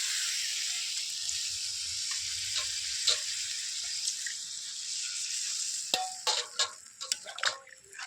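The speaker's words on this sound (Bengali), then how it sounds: "এবার আমি জল ঢেলে দেবো" Water is poured into a sizzling soybean and potato curry. A soft, steady frying hiss runs underneath, then sharp crackles and spits burst out near the end.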